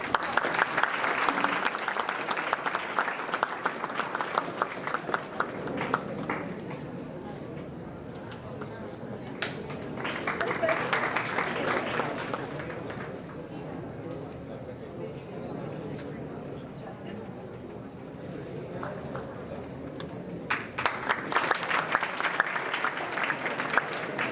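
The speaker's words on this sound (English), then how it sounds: "Please give a big applause." Audience applause at a college orientation program, with several rounds of clapping that swell and fade across the stretch, separated by quieter murmuring and a voice speaking.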